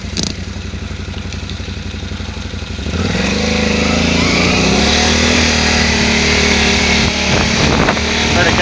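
A Can-Am Renegade 570 XMR ATV engine runs loud and steady while riding, its tone stepping up about three seconds in as the throttle opens, with continuous mechanical drone and clatter throughout.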